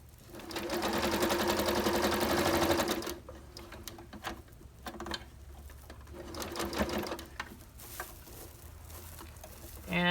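A sewing machine stitches an oven mitt in a loud, rapid mechanical rattle for the first few seconds, then continues in shorter, quieter bursts of stitching with pauses between them.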